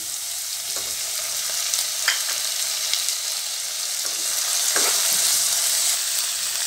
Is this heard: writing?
no